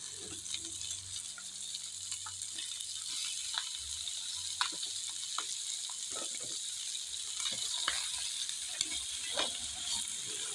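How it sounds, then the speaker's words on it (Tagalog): Sliced chayote sautéing in a pan for ginataang sayote, a steady close sizzle with scattered clicks and stirring scrapes throughout, no talking. "Gisa-gisa hanggang lalabas yung katas ng sayute."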